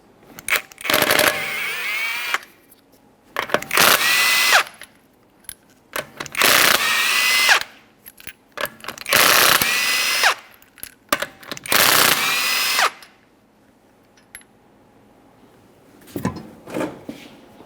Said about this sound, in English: to remove the wheel, remove all 5 of your 21mm lug nuts.